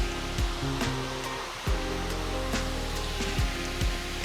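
Kusang waterfall in Nan National Park, northern Thailand, fed by hot springs above, roars as a steady broadband rush of falling water, close and continuous, with occasional brief knocks and thumps over it.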